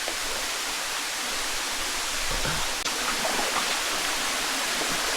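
A river stream flows with a steady, dense rushing hiss, close and continuous, with no voices over it.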